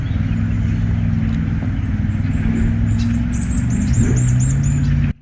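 A Mercedes-AMG GT Black Series engine drones loud and continuous as the car runs through the gears on a track, with the pitch shifting between gears and faint chirps above.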